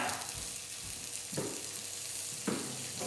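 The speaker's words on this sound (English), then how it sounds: "so seal it in the pan." Goat meat sears in a hot pan with a steady, close sizzle and crackle, broken by a couple of brief scraping stirs and no talking.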